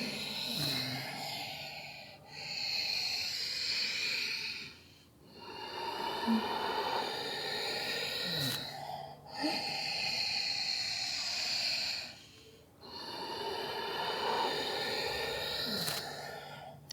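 Slow, deep breaths drawn in and let out at close range, long airy swells separated by brief pauses, repeating steadily with no talking.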